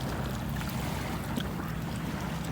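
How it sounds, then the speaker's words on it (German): Wind blows steadily across the microphone on the shore of Lake Powell, with low rumbling gusts over soft lapping water. The noise stays constant and nobody talks. "So, jetzt bin ich hier unten am Lake Powell."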